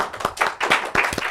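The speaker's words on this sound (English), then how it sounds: "Big round of applause" Audience in Sydney claps during a live startup-pitch event, a dense round of applause with loud, closely spaced hand claps that swell and continue steadily for a moment.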